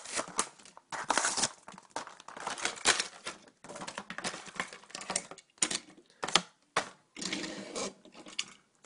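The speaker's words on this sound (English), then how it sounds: "So I'm going to unbox this one." Unboxing a Mattel Cars 2 die-cast toy two-pack, irregular bursts of plastic and cardboard crinkling, tearing and handling, close and loud, alone without talk.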